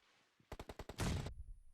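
Gunfire in the video game PUBG Mobile: a rapid burst of about six sharp shots, then a louder sustained blast of fire that cuts off abruptly, close and punchy.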